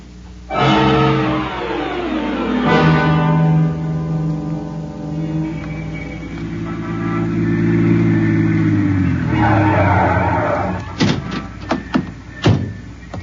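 A taxi cab engine, done as a radio drama sound effect, starts and revs up and then settles into a steady running drone before it cuts off, followed by a few sharp knocks like a door closing.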